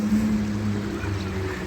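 Steady low engine drone beside a park stream, a continuous close hum with a tonal rumble and faint wind, no voices.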